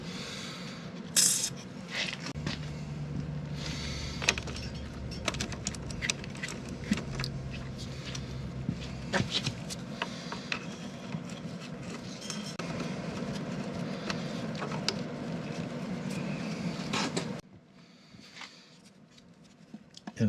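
A 3/8 socket wrench loosens a fastener treated with penetrating oil during battery tender and electrical bus bar work, giving about seventeen seconds of close, continuous metallic ratcheting and clicking, then a quieter tail.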